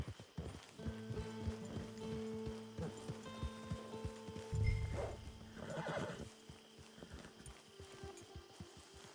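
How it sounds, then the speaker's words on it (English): A horse in the western game Red Dead Redemption 2 clip-clops along in a steady hoofbeat rhythm, then lets out a loud whinny midway, with soft rain and music underneath. "Get your horse."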